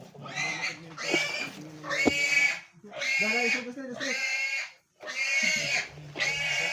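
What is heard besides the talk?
pig oinking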